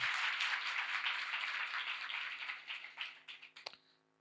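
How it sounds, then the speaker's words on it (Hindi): An audience breaks into loud, sustained applause welcoming a speaker at a Christian worship gathering, the dense clapping gradually thinning into scattered claps before dying away. "जोरदार तालियों में कलाम को वेलकम करेंगे।"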